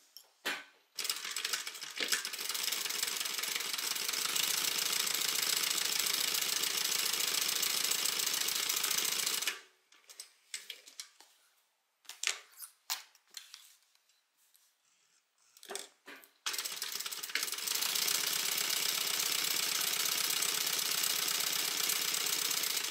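A sewing machine stitching up the sides of a tote bag, running in long, steady, rattling bursts with a pause of short stop-start stitches in between, loud and close with no talking.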